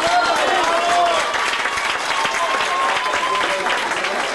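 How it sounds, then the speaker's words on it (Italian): Applause from an audience at a cycling team gathering, dense continuous clapping filling the whole stretch at an even level with no break. "Ringrazio di questo applauso"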